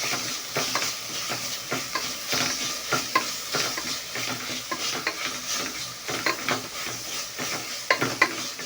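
Tomatoes frying for chicken biryani, stirred repeatedly with a spoon: a steady sizzle runs under rhythmic scraping strokes that repeat every half second or so, close up, with no voices.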